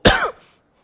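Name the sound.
cough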